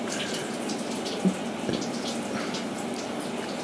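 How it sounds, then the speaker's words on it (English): Steady tap water runs continuously while a snake skin is rinsed, an even broadband hiss with a couple of faint knocks partway through. "you want to rinse the skin off"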